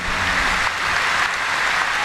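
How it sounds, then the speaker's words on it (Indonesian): Steady, broadband audience applause at a general Islamic religious gathering for Kiai Haji Anwar Zahid, a continuous clapping wash without pauses. "Tepuk tangan sekali lagi buat beliau, Kiai Haji Anwar Zahid"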